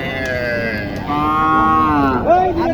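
A cow moos loudly and close by at a cattle market, one long drawn-out low call that rises and bends toward the end.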